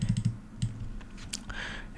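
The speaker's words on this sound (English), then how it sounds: "I'm clicking my mouse." A computer mouse clicks in a quick run of four close taps, then another single click, crisp and near in a quiet setting with light handling noise.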